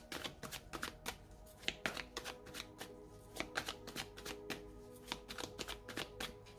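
Tarot cards are shuffled and cut by hand at close range: a quick run of crisp papery riffles and slaps in uneven bursts, with no talking.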